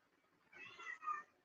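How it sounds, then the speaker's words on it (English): A cat meows twice in quick succession indoors, faint and somewhat distant against a quiet room, with no one speaking over it. "We've got a kitty. I don't know if you all can hear it."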